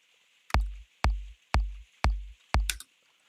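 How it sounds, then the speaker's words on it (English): Five punchy electronic kick drum hits, layering a sampled click with a synthesized sub, play at a steady pace, each with a sharp click on top and a deep, quickly decaying boom. "another variant of a kick drum you can make using sampling and synthesis"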